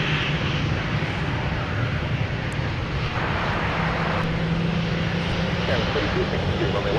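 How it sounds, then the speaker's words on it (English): A Delta Boeing 757-200 jet airliner taxis at MSP airport, giving a steady, moderately distant engine roar and whine that holds throughout, with outdoor ambience around it. "It's nice to see one of the former Northwest Airlines Delta 757-200s."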